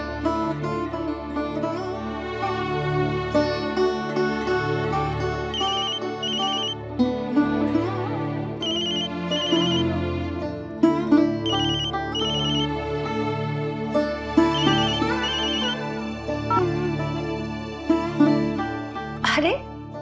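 A phone ringtone in a TV drama scene, a repeating electronic melodic tone that chimes in bursts across a continuous musical background, with a pitch sweep at the end.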